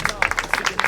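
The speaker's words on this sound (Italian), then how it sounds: "fate l'applauso" An audience claps at a Miss Italia Veneto pageant in Chioggia, a brief run of quick, close claps.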